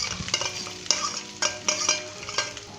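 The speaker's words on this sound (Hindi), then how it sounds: "अब हम इसके अंदर प्याज शामिल करेंगे" Onions fry in ghee for beef keema with bell peppers, a close crackling sizzle broken by repeated sharp spatula scrapes and stirring strokes, no speech.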